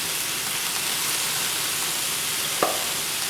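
Honey sriracha trout fillets frying in a pan, a steady close hiss and sizzle throughout with one small clink near the end, no voices.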